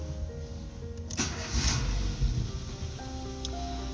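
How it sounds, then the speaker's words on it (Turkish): A car engine cranks and fires up after MAP sensor cleaning, a short starter burst followed by the engine catching and settling into a steady idle, close and alone. "Şimdi aracı çalıştıralım."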